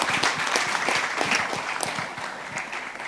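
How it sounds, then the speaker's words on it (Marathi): An audience applauds warmly at the Yek Number trailer launch event, a dense, steady clatter of many hands clapping close by that fades slightly toward the end, with no talk over it. "जोरदार टाळ्या"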